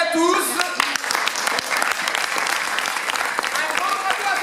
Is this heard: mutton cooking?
no